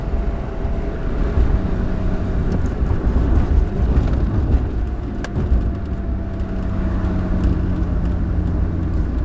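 A Miata with a swapped-in Honda Odyssey engine accelerates hard along backroads in fifth gear, giving a loud, steady engine drone with road rumble heard from inside the car, and no talking.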